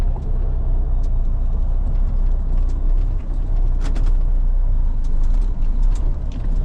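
A diesel truck engine rumbles loud and steady as the clutch engages, a continuous low drone with faint clicks and hisses on top and no voices.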